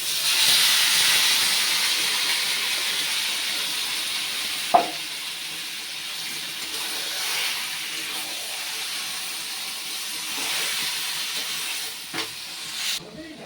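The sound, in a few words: marinated chicken sizzling in pan with fried onions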